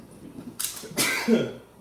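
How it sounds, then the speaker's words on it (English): A single sudden sneeze triggered by pepper during cooking, a sharp close burst followed by a breathy tail, with no one talking. "I was holding that sneeze in too."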